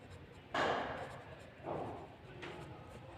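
A marker or chalk scratches across a board during a maths lesson on circles, in three short strokes spaced about a second apart, close and moderately loud, with no speech.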